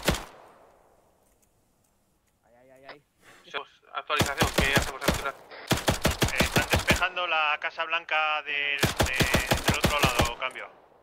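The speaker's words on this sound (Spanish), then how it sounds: "Estamos escuchando tiros desde 220." Rapid automatic gunfire crackles in several sharp bursts during a war video game, loud and close, with short gaps and brief voice-like sounds between volleys.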